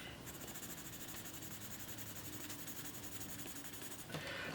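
Quiet, steady scratching of pencil strokes on paper, a soft continuous rasp with faint rhythmic back-and-forth texture.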